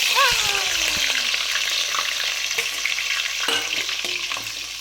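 Green chillies, onion and curry leaves drop into hot oil for a fish curry, setting off a loud sizzle that stays bright and continuous, with spatula scrapes and knocks against the pan throughout.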